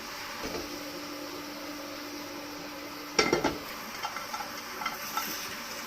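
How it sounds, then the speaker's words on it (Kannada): Tamarind being roasted in a pan for puliyogare: a steady soft sizzle runs throughout, with a sharp metallic clatter of a utensil against the pan midway and a few lighter stirring scrapes after, no talking. "ಈಗ ಹುಣಸೆ ಹಣ್ಣನ್ನು ಹುರ್ಕೊಳ್ಳೋಣ"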